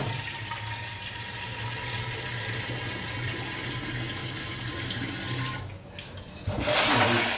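Water runs steadily through a geyser tank, a continuous rushing flow at close range with no talking, then briefly dips and swells louder near the end.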